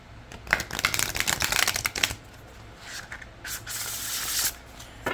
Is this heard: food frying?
no